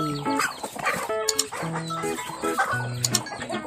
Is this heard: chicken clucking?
yes